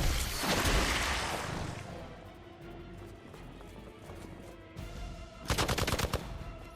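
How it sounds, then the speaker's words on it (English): A few sharp gunshots in Marvel's Midnight Suns, a loud burst at the start, then quieter game ambience and a rapid rattling volley of shots near the end. "He just shot me."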